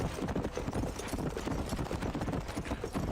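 Horse hooves in the video game Red Dead Redemption, a quick, continuous galloping clip-clop that is loud and close, with no voices over it.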